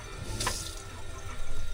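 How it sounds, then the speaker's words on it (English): Water runs from a van's pump-fed tap left switched on, a steady hiss of flow that swells louder toward the end, with no voices. "I did forget to turn off the water pump."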